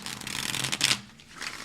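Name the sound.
tarot cards being shuffled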